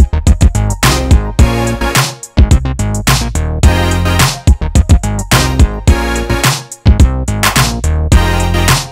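A synth remake of a song, built with Arturia V Collection 8 instruments, plays loud and punchy with heavy bass, rhythmic synth stabs and a tight beat throughout, with no talking over it.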